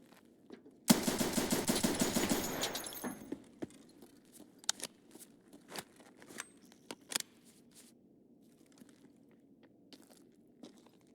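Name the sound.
pistol gunfire in video game Escape from Tarkov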